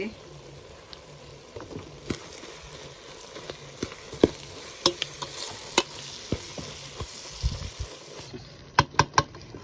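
Liver for Ethiopian dulet cooking in butter, a soft continuous sizzle under sharp intermittent clacks of a spoon against the pot, growing into a quick cluster of taps at the end, no voices.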